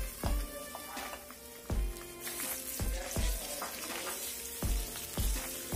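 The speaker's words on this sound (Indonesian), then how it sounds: "Kita tambahkan sedikit minyak, kita tumis bumbu halusnya." Ground spice paste sautéing in a little oil for a spicy squid dish, a steady close sizzle with repeated sharp stirring knocks against the pan roughly every second.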